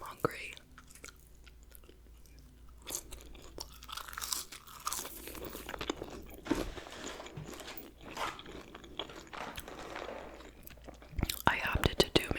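McDonald's fries being eaten up close, with soft crunching and chewing mixed with whispered talk and small rustles.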